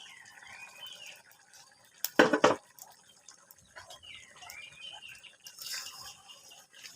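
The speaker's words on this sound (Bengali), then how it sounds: "ঢাকনাটা খুলে দেখি" A metal lid comes off a cooking pot of kochur loti with shrimp. It makes a sharp clattering clank in the middle, set against quiet kitchen background with faint high whistling tones.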